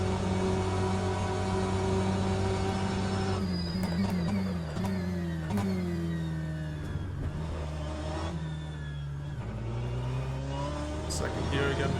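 BMW M8 race car engine lapping Spa in rFactor 2, a loud continuous engine note with rising and falling revs through gear changes, downshifts under braking and hard acceleration out of corners.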